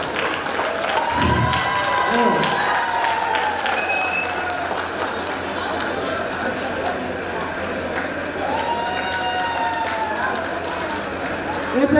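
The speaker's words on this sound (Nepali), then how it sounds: "सबैले ताली बजाइदिनु होला" An audience at a Nepali cultural festival claps steadily, with crowd noise throughout and people talking over the applause.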